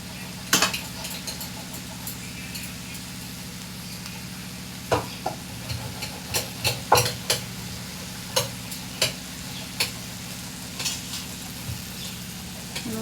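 Turmeric and chili powder fry in a pan with a little water while a spoon stirs them, giving a steady close sizzle broken by sharp scraping clicks against the metal.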